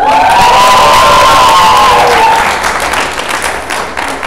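A large crowd of participants at a showcase event roars with cheering, whoops and applause. The sound is loud and close, with one voice holding a high shout, then it slowly fades.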